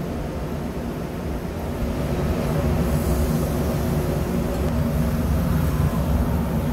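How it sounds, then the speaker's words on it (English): A laboratory vacuum pump for filtration runs with a steady, loud mechanical hum and rush without a break, droning nearby. "Turn on the vacuum."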